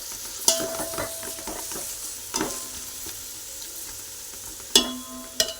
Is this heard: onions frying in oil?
yes